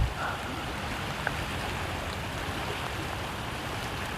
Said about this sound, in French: il pleut vraiment